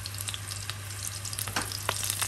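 Ginger dropped into a sizzling sweet and sour sauce for fish in a hot pan, a steady frying hiss with a few crackles over a low hum, no talking.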